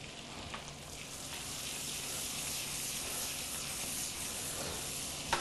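Shrimp and scallops hit a hot pan in a restaurant kitchen, giving a steady, fairly faint sizzle and hiss that runs unbroken throughout.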